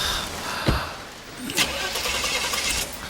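A car engine cranks but fails to catch, with short bursts of starter noise against steady background rumble in a parked street setting, no voices.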